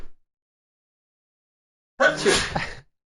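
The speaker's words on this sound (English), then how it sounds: "I gotta sneeze." A single loud, close sneeze bursts out after a moment of near silence, preceded by a faint breath.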